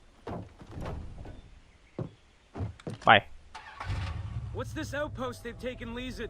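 A car engine in Far Cry 3 starts after door clunks and a few thumps, then settles into a steady, moderately loud running hum while a voice speaks over it.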